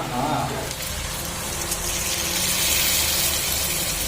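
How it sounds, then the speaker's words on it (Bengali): Water is poured into a pot of mutton curry being cooked at home, a steady gushing splash that runs continuously at moderate volume. "এবার জল দিয়ে দেবো সুন্দর করে।"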